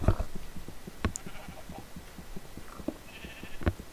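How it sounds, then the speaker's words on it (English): Blocky Minecraft sheep bleat a few times across a few seconds, moderately loud among other game sounds and footsteps, with no talking over them. "Those are definitely sheep noises."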